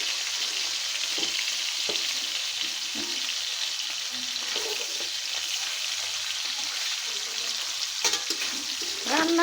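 Nola fish frying in hot oil crackles in a loud, steady, close-up sizzle with occasional light pops and utensil clicks.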